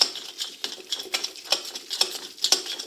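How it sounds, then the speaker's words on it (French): Caramel cream is mixed into chocolate with a spatula in a bowl, making a quick run of close, rhythmic wet scraping strokes that repeat steadily with no talking. "Et on vient le mélanger à notre chocolat."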